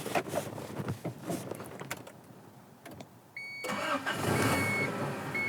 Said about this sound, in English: So let me go ahead and get the car started.